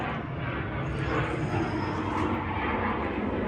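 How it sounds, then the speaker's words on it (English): A jet aircraft passes overhead, a loud, steady broadband roar filling the whole stretch without letup, heard during work on a 1966 Ford Country Sedan wagon's engine bay. "As we're so rudely interrupted by a jet."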